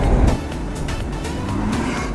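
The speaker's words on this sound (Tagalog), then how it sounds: "grabe guys ang traffic talaga dito sa bandang kantuhan na to guys" Road traffic noise near an intersection in Cavite, with a steady low rumble of cars and vehicles passing close by. A louder engine swell comes at the start, then a continuous wash of traffic.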